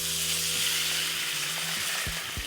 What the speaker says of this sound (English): we'll go ahead and add our liquid into it. Very simple apple cider vinegar.